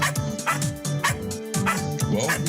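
A puppy named Barney yaps in short, bright barks and whimpers on a radio breakfast show, repeated several times close to the microphone with background chatter.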